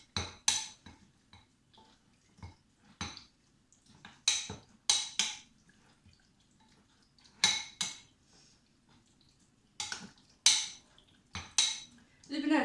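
Chicken pieces, garlic, oil and salt are stirred together in a bowl, with irregular sharp clinks and scrapes of a utensil against the dish, close and fairly quiet.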